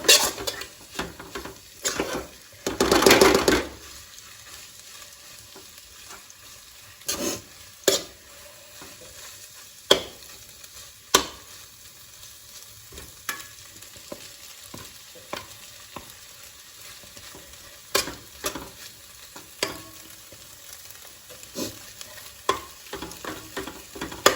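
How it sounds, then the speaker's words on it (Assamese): Maggi noodles being stirred and fried in a pan, with a steady faint sizzle under repeated sharp scrapes and clinks of a utensil against metal, one louder burst of scraping near the start. "তাৰপিছত মই এনেকৈ লৰাই দিব অলপমান মেগীটো লৰাই নাথাকিলে দেৰি যাব তলত লাগি ধৰিব সেইকাৰণে মেগীটো অলপমান ফ্ৰাই কৰি থাকিব লাগিব"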